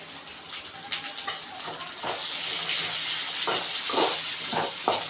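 Vegetables with green peas, grated carrot, green chillies and greens sauté in a pan, giving a soft steady sizzle with scraping stirs and clinks from a utensil.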